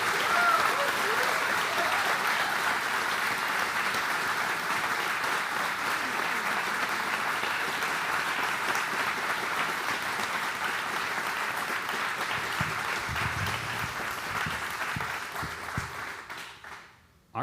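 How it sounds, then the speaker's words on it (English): A large audience at a talk gives a long round of applause, a dense steady roar of clapping that holds for well over a dozen seconds before tapering off near the end, with faint voices underneath. "So just one more round of applause for the whole gang."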